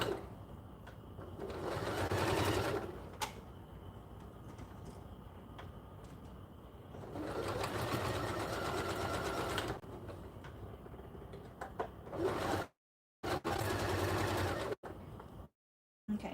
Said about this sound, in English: then you just start top stitching